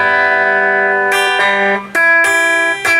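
An acoustic guitar plays a short fingerpicked phrase from a song. A few bright, ringing plucked notes follow one another, clear and close, with no talking.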